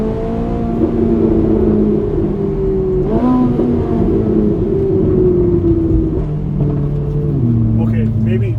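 A Ferrari engine drops through the gears with shifting revs and bursts of crackling backfire, loud and close inside the car, while someone talks over it.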